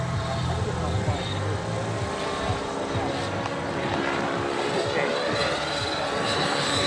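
A radio-controlled helicopter flies nearby with a steady, droning rotor and motor whine that holds level throughout, loud and continuous.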